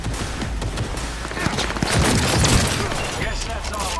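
Dense bursts of gunfire rattle through a firefight in the video game Cyberpunk 2077, rapid loud shots overlapping with music and effects while voices talk over the action.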